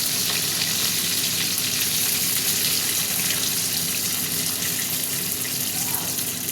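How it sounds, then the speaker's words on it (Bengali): Pointed gourds frying in hot oil on a gas stove, a continuous loud, close sizzle with a broad hissing texture and no talking. "পটলগুলো ভাজা হোক"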